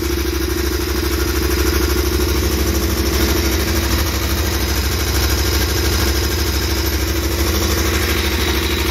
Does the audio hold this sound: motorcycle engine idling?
yes